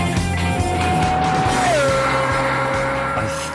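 Bugatti Veyron or Pagani Zonda supercar accelerating hard, a loud sustained engine roar with a shifting whining tone as revs climb and the gear changes, close and unbroken.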